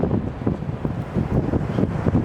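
Steady wind buffeting a microphone outdoors near the beach, a continuous low rumble with gusty surges throughout, no voices.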